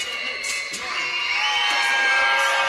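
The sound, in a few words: crowd cheering at 3x3 basketball game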